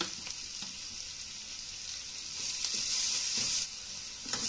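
Fenugreek curry base frying in a pan, a steady soft sizzle with faint stirring scrapes, fairly quiet and close, no voices.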